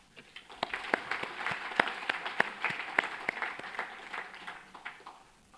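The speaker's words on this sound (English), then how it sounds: "give another round of applause for our student awardees" An audience at a university convocation ceremony gives a round of applause, with a dense wash of clapping and sharp individual claps that build and then slowly fade.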